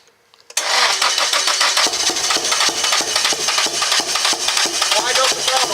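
An SR20 engine swapped into a Nissan S13 coupe fires up for the first time, a brief crank catching into a loud, steady, lumpy idle with rapid rhythmic pulses that continues to the end.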